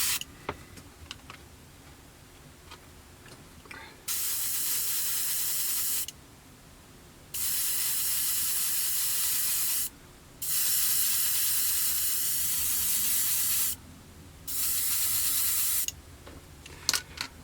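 An airbrush sprays Alclad aluminium metallic paint onto small scale-model aircraft parts in several hissing bursts of a second or two each, separated by short pauses, over a quiet room.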